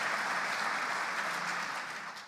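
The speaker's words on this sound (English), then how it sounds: "we can give applause for that" Steady applause from a gathered audience at a community sports recognition event, filling the whole stretch at an even, moderately loud level before tapering slightly at the end.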